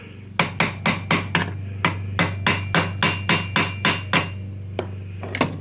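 Hammer taps driving a bolt through during a 1979 Vespa P200E seized engine rebuild: about twelve sharp, evenly spaced metallic blows close up, then a short pause and a couple of lighter taps.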